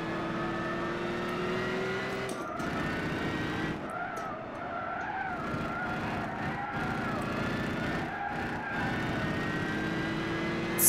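A race car in Gran Turismo 6 revs hard out of a corner, its engine whine climbing and dropping through several upshifts with brief tyre squeal, loud and continuous with no talking.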